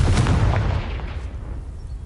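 A Confringo fire spell blasts rocks in Hogwarts Legacy, giving a loud booming burst at the start that tails off into a rumbling, crackling decay over about two seconds.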